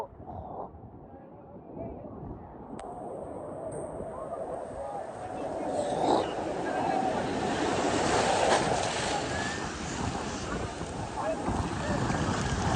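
Sea surf at Cox's Bazar beach, salty water, washing in as a steady broad roar with a gusty wind rumbling over the microphone that grows stronger partway through.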